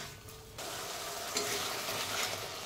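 Spice paste frying in oil in a pan for a potato dum, a steady close sizzle that rises after a brief quieter start, with faint stirring scrapes and no talking.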